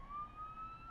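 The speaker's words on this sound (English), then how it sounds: "I don't know if y'all can hear the sirens in the background" A siren sounds in the background, its steady tone sweeping slowly upward and holding as a thin, continuous wail over low rumbling noise, fairly faint and distant throughout.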